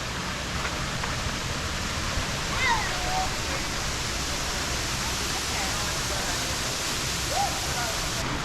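A tall waterfall heard from the top of the falls, giving a steady, unbroken roar of rushing water that holds an even loudness throughout.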